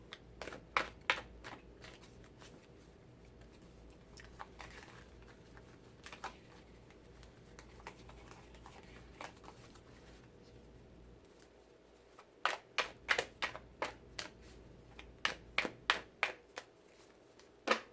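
Rapid crisp riffling and tapping of tarot cards being shuffled, in quick bursts separated by quieter handling, close by and fairly soft.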